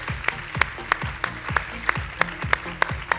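Crowd at a hair color stage show greets a presenter with applause. A few sharp, evenly spaced claps stand out close to the microphone over a thinner background of clapping.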